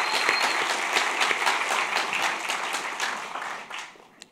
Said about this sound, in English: And let's get one more round of applause against censorship,